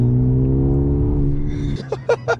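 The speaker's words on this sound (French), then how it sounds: "mets-toi un petit coup d'accélérateur, là" A stage 1 Mercedes-AMG A35 drones steadily from inside the car, its engine tone loud and even, before it cuts away to a few brief voice-like bursts.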